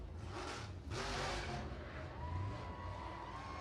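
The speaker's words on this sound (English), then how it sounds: "Little victory donut for Buttercup" A figure 8 race car spins a victory donut after an outlaw figure 8 invitational race, its engine revving and tires scrubbing in a broad rushing roar heard from a distance, with faint crowd noise behind.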